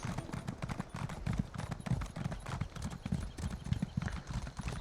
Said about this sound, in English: let's get the horse out